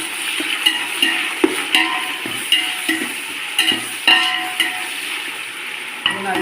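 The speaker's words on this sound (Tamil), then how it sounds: "மல்லிச்செடி, புதினா, மிளகாய், தக்காளி நல்லா போட்டு நல்லா வதக்கணும்." Onion, coriander, mint, green chilli and tomato fried together for chicken biryani, a loud steady sizzle broken by regular scraping stirs of a spoon against the pan, with no one talking.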